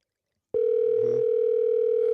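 A telephone call is placed and a steady, loud ringback tone starts abruptly and holds unbroken, with a brief muffled rumble partway through.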